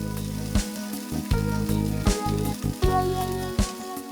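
Water hitting hot oil in a wok with chopped onion and chilli sets off a loud, steady sizzle, punctuated by several sharp bursts and crackles as it spits and bubbles up.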